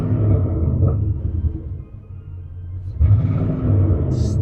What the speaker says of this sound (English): Let's rev it up in neutral first.